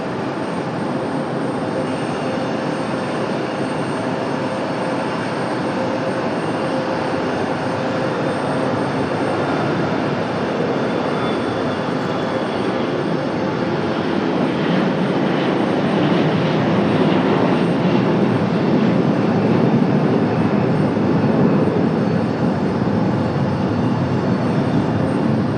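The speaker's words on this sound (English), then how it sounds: "Our second and final ATR of the night, also the smallest of the two ATRs." An ATR turboprop airliner at Raleigh-Durham International drones steadily through the evening, a continuous engine hum that swells gradually louder over about twenty-five seconds with no talking.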